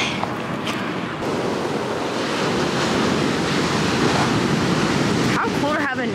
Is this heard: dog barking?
no